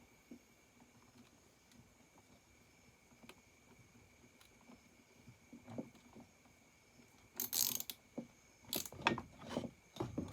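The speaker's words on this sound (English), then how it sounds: "Tighten your bolt back down." A ratchet tightens a bolt on a McCulloch 850 chainsaw while its starter gear and recoil spring are being refitted, starting with faint clicks and then building into a bursts of close, rapid metallic ratcheting toward the end.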